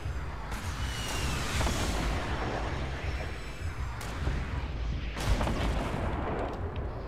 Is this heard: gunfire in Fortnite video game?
yes